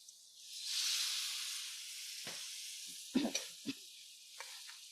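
White wine poured into a hot pot of lobster bisque bursts into a loud hissing sizzle that swells and slowly fades, followed by a few stirring clinks and knocks against the pot.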